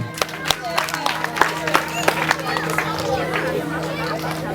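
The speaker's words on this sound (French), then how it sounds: "On applaudit, hein? On applaudit." Wedding ceremony guests applaud in a loose, uneven patter of claps, with crowd chatter and voices mixed in throughout.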